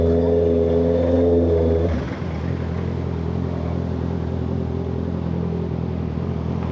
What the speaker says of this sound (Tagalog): basta ganito ang tunog ng motor ko.